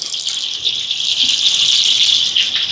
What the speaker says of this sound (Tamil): இப்போ சூடாயிட்டு எண்ணெய் சேர்க்குறேன் இது வந்து தேங்காய் எண்ணெய்